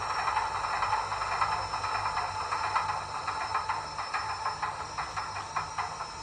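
A model railway locomotive's sound module winds down after being switched off, giving a steady hissing, rumbling mechanical drone with faint rhythmic pulses that continues evenly without any voices.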